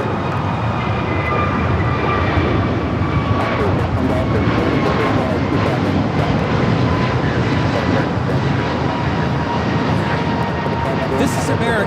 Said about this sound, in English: This is American Airlines 591 taking off to Washington Reagan National on the A321neo